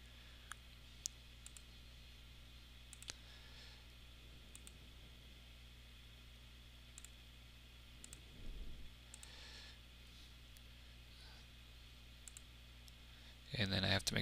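Mouse clicks made while digitizing a design in CorelDRAW, faint isolated ticks spaced irregularly over a steady background hiss, with a louder burst of handling near the end.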